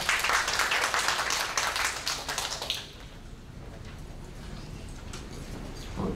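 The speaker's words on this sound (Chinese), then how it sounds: "用掌声来欢迎一下王老师。" An audience at a national high school mathematics teaching seminar claps to welcome a teacher to the stage. The dense applause fills the first few seconds, then quickly thins out and leaves a quiet room murmur.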